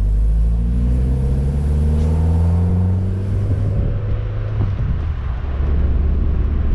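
Fiat Barchetta roadster fitted with a K&N air filter, its engine droning loudly and steadily with rising tonal sweeps as it revs and pulls, a continuous close rumble with no voices.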